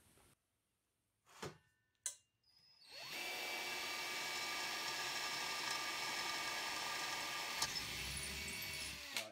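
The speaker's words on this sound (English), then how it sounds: "we're going to do a little pilot drill" A few short taps and bursts, then a power drill spins up and grinds steadily into a propane cylinder's steel, drilling a pilot hole at a constant whine for several seconds, with a brief clack near the end.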